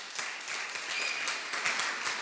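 A church congregation at a thanksgiving service applauding: steady, fairly faint crowd clapping with scattered cheers, continuous for the whole moment.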